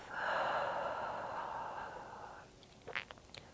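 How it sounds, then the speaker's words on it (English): A slow, deep breath drawn in through the nose during a calming yoga session, a long steady airy rush for about two seconds, followed by quieter soft sounds as the exhale trails off. "Draw a big breath in through your nose. Slow exhale through the mouth."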